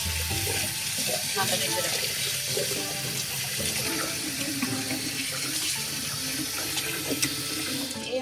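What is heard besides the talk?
tap water washing chicken pieces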